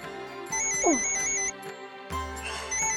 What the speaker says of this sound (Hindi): रघुवीर बाबूजी का फोन सर